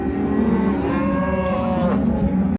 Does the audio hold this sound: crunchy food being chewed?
no